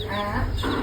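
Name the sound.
chicken clucking at a poultry farm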